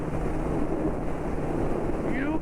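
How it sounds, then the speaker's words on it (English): Steady roaring wind buffeting against a microphone on a motorcycle at highway speed, loud and continuous throughout with no speech. "The wind is back."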